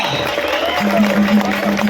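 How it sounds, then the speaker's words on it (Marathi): Crowd applauding and cheering at a kushti wrestling bout at the Jejuri Kesari tournament, a dense, steady roar of clapping and voices with a faint tonal line running under it. "सर्वांनी जोरदार टाळ्या वाजवा."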